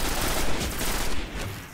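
Rapid automatic fire from an SMG-like weapon in the video game Destiny, a dense continuous burst of loud shots with no pauses.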